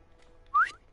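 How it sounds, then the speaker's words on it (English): Player character whistling in Fallout 4: a single short rising whistle around the middle of the moment, fairly loud over a quiet game-ambience background. "Just whistled at her."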